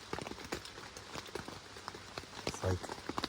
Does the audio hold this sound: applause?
no